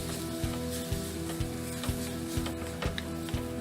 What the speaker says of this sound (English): Now we're going to crack in our eggs. Mix it all in.